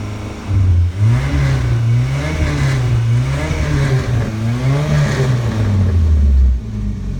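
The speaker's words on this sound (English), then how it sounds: "The muffler is a little bit raspy." A 1983 Volkswagen GTI engine revs up and down repeatedly with a raspy, rumbling exhaust note from a brand new muffler, loud and close, with no talking.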